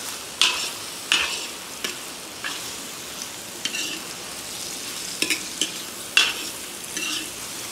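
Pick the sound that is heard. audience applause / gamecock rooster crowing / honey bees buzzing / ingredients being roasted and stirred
ingredients being roasted and stirred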